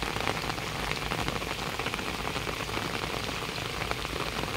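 Steady rain falls on a rural Thai garden plot in July, a dense, continuous hiss of drops hitting surfaces that stays even throughout, with no voices.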